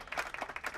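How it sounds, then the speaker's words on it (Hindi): Students in a classroom give a short burst of claps, a few quick, faint, uneven hand claps. "ओके, तालियां।"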